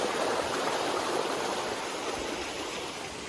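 Steady rushing stream water on Pinnacle Mountain Trail in Table Rock State Park, a broad continuous wash of flow heard close and alone with no voices.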